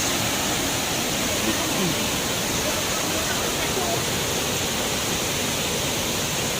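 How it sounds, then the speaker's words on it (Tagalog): A waterfall roars as a dense, steady wash of broadband rushing water, loud and close, filling the whole stretch without break. "Welcome sa aming waterfall."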